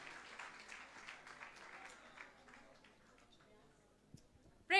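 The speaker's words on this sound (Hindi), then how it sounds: "जोरदार तालियां बजाइएगा, हाथों को उठाकर शुक्रगुजारी के तौर पर।" Congregation applauding at a Wednesday prayer service in a church, a fairly faint wash of many hands clapping that thins out over several seconds, with voices murmuring underneath and a sharp louder sound at the very end.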